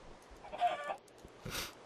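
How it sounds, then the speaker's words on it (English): A hidden chicken in a video game clucks in two short, moderately loud bursts separated by a brief pause, with no talking. "Hidden Chicken number 0."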